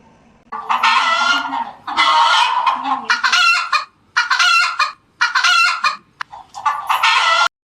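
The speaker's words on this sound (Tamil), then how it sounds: "நான் கோழி குஞ்சு பேசுறேன். நாங்க இப்படிதான் கத்துவோம்." Loud chicken calls from a children's animal toy: repeated harsh, honking squawks in about seven bursts of roughly a second each, separated by short gaps, close and alone.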